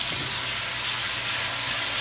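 Tiwul cassava rice sizzles steadily in a pan as it is fried for nasi goreng tiwul, a loud continuous hiss with no talk.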